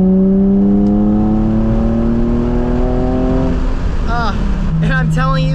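A Nissan 350Z engine with a stock exhaust and muffler delete revs up and drops back, the exhaust note rising in steady harmonic sweeps and then settling, loud and close, with a voice briefly underneath.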